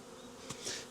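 Honeybees buzzing on their early-spring cleansing flight, a brief continuous hum with one bee passing close by, faint and outdoors.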